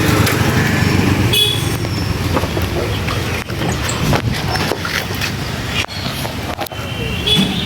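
Motorbike riding through a village, a steady broadband engine and road rumble running loud and continuous throughout with brief dips, no voices.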